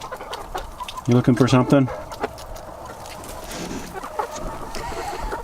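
Chickens in a nesting box give a burst of loud, close clucks, then softer scattered fowl noises while a person talks over them.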